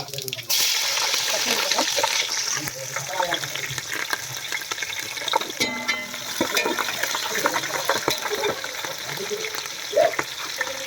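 Water splashes into a pot of mutton biryani spices amid steady kitchen sizzling and clatter, with a voice talking over it.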